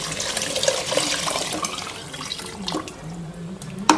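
Water being poured into a pot of raw rice for tomato rice, a running, splashing pour with small irregular splashes and gurgles, close and continuous with no speech.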